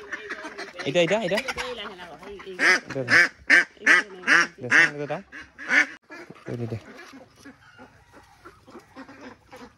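Ducks being handled and weighed quack loudly in a rapid run of sharp calls, clustered in the first half and tapering off, with a person speaking close by.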